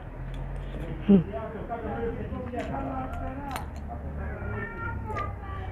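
Faint cat meows sound outdoors amid background chatter, brief drawn-out calls mixed with a sharp sound and soft voices nearby.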